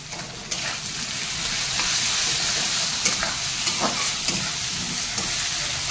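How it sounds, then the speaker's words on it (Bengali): Potatoes and onions sizzle steadily in hot oil in a pan for a fish curry, with a loud continuous frying hiss and occasional sharp stirring scrapes and taps. "আমার আলু আর পেঁয়াজ ভাজা ভাজা হয়ে গেছে।"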